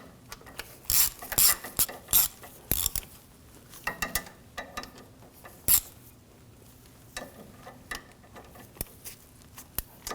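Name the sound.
tightening 10mm bolts on BMW thermostat housing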